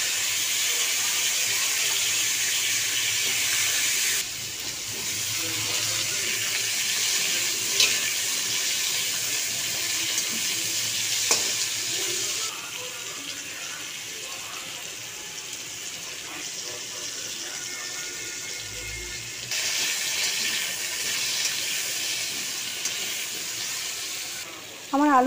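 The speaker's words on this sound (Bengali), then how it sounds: "এবার সেই মাছ ভাজা তেলেই কিছুটা কালো জিরে দিয়ে তার মধ্যে আলুগুলো দিয়ে দিলাম" Potato pieces fry with black cumin in oil left from frying fish, giving a steady, close sizzle that rises and falls in level, with occasional stirring clinks and a voice at moments.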